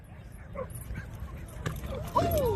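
A Boerboel in a dog park gives short yips and ends with a rising whine, close and moderately loud, mixed with people talking and outdoor noise.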